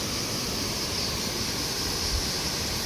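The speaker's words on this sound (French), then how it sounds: "La cascade de Navacelles." The Cascade de Navacelles waterfall roars as a constant broadband rush of falling water, steady and enveloping with no breaks.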